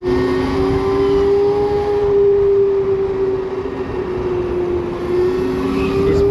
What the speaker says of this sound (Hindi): दोबारा से ब्रेकिंग चेक कर ले रहा हूँ एक बार।